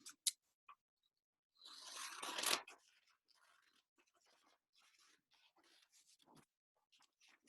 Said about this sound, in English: So you're gonna use scissors and you're gonna cut your paper in half.